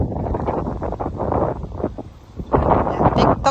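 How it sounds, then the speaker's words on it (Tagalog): Strong wind with rain starting buffets the microphone in rough, rumbling gusts that swell louder toward the end. "Ang lakas ng hangin at saka umuulan na din."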